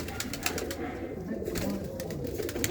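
A pair of pigeons coo softly nearby, low, repeated murmuring calls over a faint background with no clear talk.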